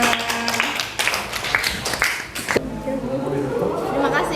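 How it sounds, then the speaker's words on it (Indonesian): Students applaud in a classroom during an economics lesson. Talk and chatter fill the first part, then a steady wash of clapping takes over for the last couple of seconds. "Tepuk tangan."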